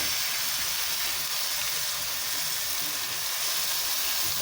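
Finely chopped onions fry in hot oil for masala fish, a steady, loud, even sizzling hiss that fills the whole stretch without a break.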